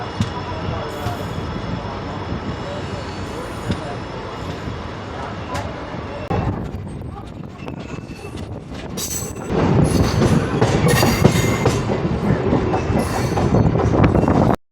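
An Erode to Coimbatore MEMU train running on diesel rumbles steadily with broad track roar, then grows louder with clattering wheels and squeals toward the end.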